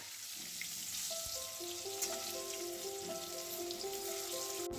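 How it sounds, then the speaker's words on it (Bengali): Potatoes with salt and turmeric frying in white oil in a wok for a Bengali veg biryani, a steady soft sizzle and crackle with faint tonal notes running over it, no talk. "তারপরে আলুগুলো বেশ ভালো করে ভাজতে হবে।"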